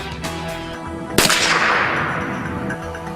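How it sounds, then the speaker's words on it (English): A single sharp .22 rifle shot strikes bullet-resistant material, a loud close crack with a short ringing decay, preceded by quiet background. "Again, they're using the .22. Okay, I'm firing."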